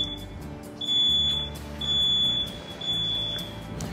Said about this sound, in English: Typically, there's a small test button you can press to cause the alarm to sound.